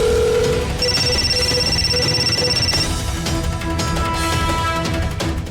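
A phone rings in a home, its electronic tone sounding in a repeating pattern over background music.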